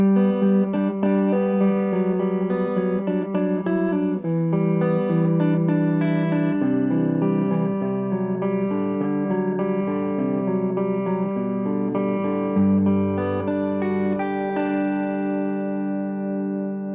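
An electric guitar plays through the fat channel of an Orange Dual Terror amp set for a clean, chiming tone. Ringing chords and notes sustain continuously for about seventeen seconds with no talking.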